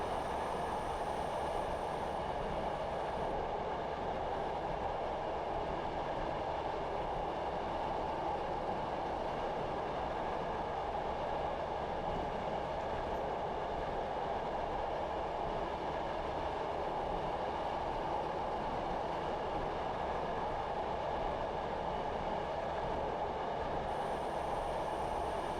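Steady rail rumble from a 1950s steam train running downhill on the Stour Valley Railway in Train Simulator Classic, a continuous unbroken drone with a faint high whine, loud and unchanging throughout, no voices.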